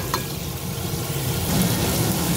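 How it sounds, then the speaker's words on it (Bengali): Vegetables with tomato, salt and turmeric sizzle steadily in a hot pan, a close, continuous frying hiss with faint stirring that grows slightly louder toward the end. "এগুলোকে একটু আমি ভাজতে দিয়ে দিচ্ছি, এবার ভাজার জন্য ছেড়ে দিলাম।"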